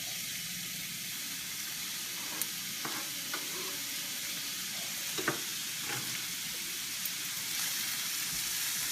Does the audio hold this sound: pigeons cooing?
no